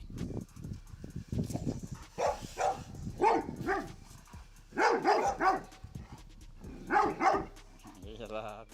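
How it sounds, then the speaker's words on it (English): A dog barks in repeated bursts of sharp, yelping barks, fairly close, with a voice talking over parts of it. "the dog will have to find something else to bark at"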